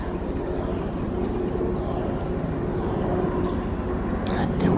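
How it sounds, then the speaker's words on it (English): A medevac helicopter passing overhead near a creek after rain, a loud continuous engine drone and rotor roar filling the background throughout, steady and close. "That sounds like medevac."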